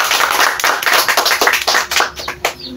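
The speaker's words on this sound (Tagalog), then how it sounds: "Maaari niyo bang bigyan ng palakpak ang inyong sarili?" Classroom students clap for themselves after a role-play in a demo teaching lesson, a brief burst of close, sharp hand claps with an uneven rhythm that thins toward the end.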